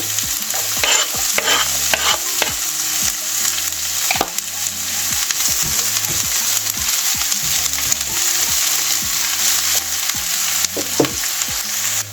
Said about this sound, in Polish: Cebulkę przez chwilę smażymy na gorącym oleju.